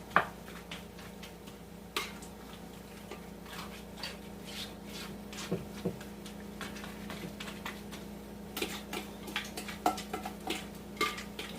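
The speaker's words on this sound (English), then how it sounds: "you gotta scrape your bowl real good" A utensil scraping and clinking around a bowl of green bean casserole mix, with irregular ticks and scrapes and sharper knocks against the bowl, close and fairly quiet without any talking.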